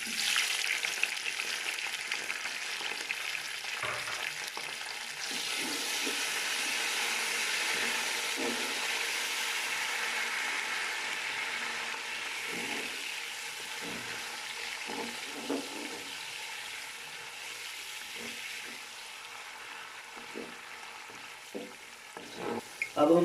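Tomatoes and green chillies frying in a pan for aloo matar pulao, giving a steady, hissing sizzle close by that fades slightly over time, broken by occasional soft stirring clicks and knocks.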